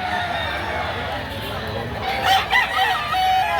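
A rooster crows among people talking at a seller's yard where a pair of mature roosters is offered for sale. The crow rises briefly and clearly late in the moment over the steady chatter.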